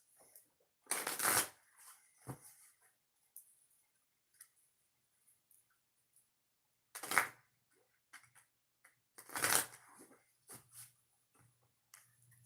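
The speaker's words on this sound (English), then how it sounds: "I'm going to shuffle the cards" Three bursts of tarot card shuffling, each a quick riffling flutter, separated by quiet pauses with faint small handling sounds in between.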